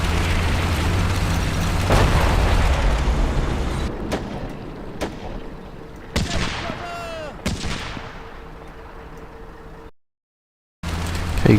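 Gunfire and explosions in the Combat Mission tactical war game during a Market Garden campaign mission, heavy rumbling bursts early, then sharp separate cracks and a whistling shell, a brief silent gap near the end.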